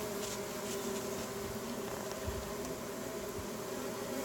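Bees humming steadily inside an open beehive during a first hive inspection, a continuous dense drone held close and even throughout with no voices.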